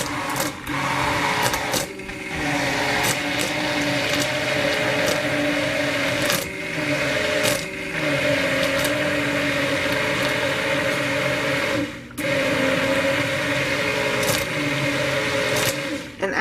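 A stick blender whirs in bursts while mixing lye water into hot process soap batter, a steady mid-pitched motor hum broken by short pauses, close and fairly loud.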